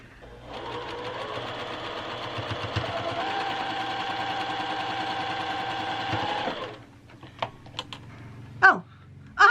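A sewing machine stitching a quilt block runs in one steady, close buzzing burst for several seconds, then stops, followed by a few small clicks and handling knocks.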